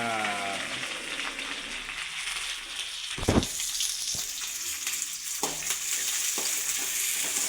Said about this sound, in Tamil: வெங்காயத்தை போட்டு கொஞ்சம் வதக்கிக்கிங்க.